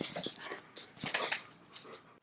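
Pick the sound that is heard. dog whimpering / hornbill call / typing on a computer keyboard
dog whimpering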